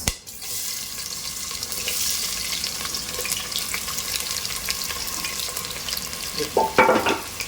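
Onions hit hot oil already spiced with cloves and star anise for dhaba-style mutton bhuna, giving a steady close sizzle and crackle with some scraping and stirring clatter near the end.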